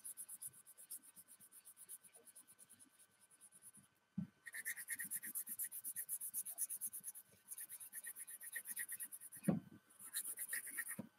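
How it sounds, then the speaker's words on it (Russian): A children's pencil shades across paper in quick, steady, close-up scratching strokes that run almost continuously, with a short pause near the start of the second third and a brief knock partway through. "Детским карандашом, конечно, не очень штриховать удобно, но цвет подходящий."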